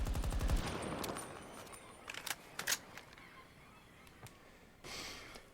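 Rapid automatic fire from an MCX Spear rifle in Battlefield 2042: a dense burst at the start, then a few scattered sharp shots and a brief final burst, moderately loud with no talk.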